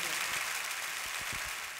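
An audience at a wedding ceremony claps for a singer, a steady broadband wash of applause throughout with a few low thumps, fairly loud and close.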